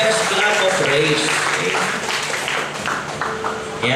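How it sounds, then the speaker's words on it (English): Church congregation clapping in praise, a dense, steady wash of applause throughout with voices mixed in underneath. "Give the Lord the best clap of praise."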